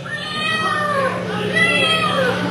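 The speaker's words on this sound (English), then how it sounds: "A cat." A cat's meow, heard as a couple of drawn-out, bending cries over a steady low hum of backing music in a rock song.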